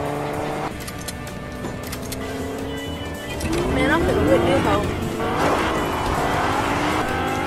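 A Lamborghini in the Fortnite video game drives and drifts, its engine note rising with squealing tires and skidding sweeps midway, while a player talks over it.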